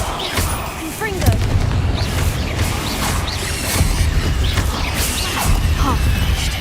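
In a Harry Potter video game, the Confringo explosion spell goes off as a string of booming blasts and crashes over busy game noise.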